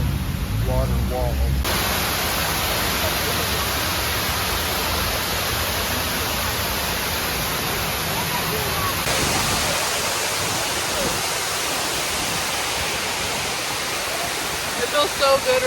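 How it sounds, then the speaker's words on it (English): Houston's Water Wall, a large outdoor fountain where water pours down a curved wall, roars as a loud, steady rush of falling water that dominates throughout, with a brief voice near the start. "It's actually just a waterfall. As you can see from the shape of the structure, water falls on the wall."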